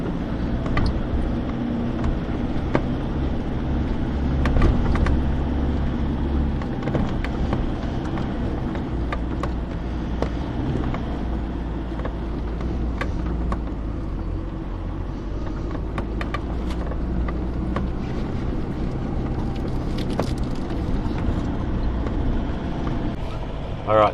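An old Datsun crosses Simpson Desert dunes on the Madigan Line, its engine giving a continuous low drone with occasional knocks and rattles, while someone talks over it.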